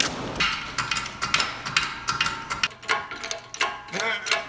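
Bolt being forced out of a bushing on a shop press during a vehicle lowering job, giving loud irregular knocks, creaks and sharp metallic clicks in a dense cluster, close up with no voices.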